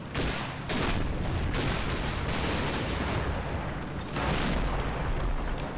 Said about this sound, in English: It might have just been mortars, like more 60mm mortars. Definitely getting mortar fire here though, I think.